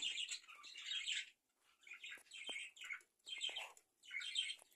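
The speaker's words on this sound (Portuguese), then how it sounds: "mostrando o casalzinho de rolinha, diamante" A pair of diamond doves in an aviary call with soft, repeated cooing and chirping phrases in short bursts separated by brief pauses, fairly close and clear with no talking.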